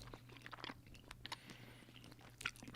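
A Kirkland Signature protein bar, chewy like a cookie, being bitten and chewed close up: soft crunches and moist chewing in short bursts, with no talking.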